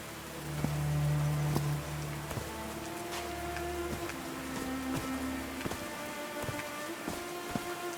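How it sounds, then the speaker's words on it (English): Steady rain in a video game pattering on a surface with scattered droplet taps, mixed with soft sustained tones in the background. "These drops of rain are so refreshing."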